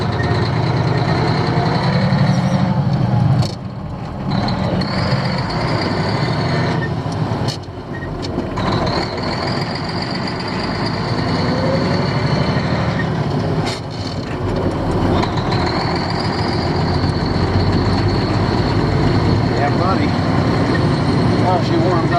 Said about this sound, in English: You hear that turbo kick in.